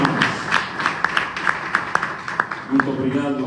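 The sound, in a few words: audience applause at a church youth forum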